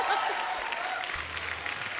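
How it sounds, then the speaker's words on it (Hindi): A studio audience on an Indian comedy talk show claps loudly and steadily throughout, a dense burst of applause filling the whole moment. "एक बार जोरदार ताली हो जाए"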